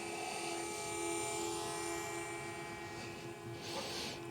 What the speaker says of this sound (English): the Mavic Mini will start circling around me, keeping me in the frame the whole time.